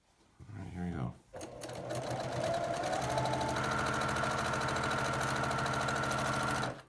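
A sewing machine runs steadily for several seconds, stitching sashing onto a pinwheel quilt, its motor whirring at a constant rate after a brief start and short pause, with a voice speaking briefly at the beginning.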